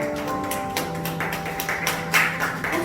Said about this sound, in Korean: 여유미 선생님 올라오실 때 큰 박수로 환영합니다